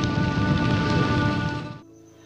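Heavy rain pours steadily in a Vietnam war film scene, a loud dense hiss under a faint tonal hum, then cuts off abruptly near the end, leaving quiet.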